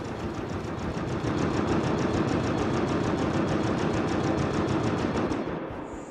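Sustained rapid automatic gunfire in the Mass Effect Andromeda game, a dense continuous mechanical rattle holding loud and steady for several seconds before easing slightly at the end.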